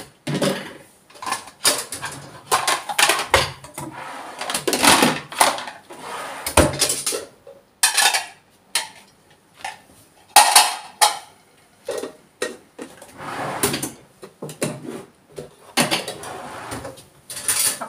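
Dishes, pots and pans clatter and clink during dishwashing in a home kitchen, with bursts of scraping and knocking that stop and start at close range, and no voices heard.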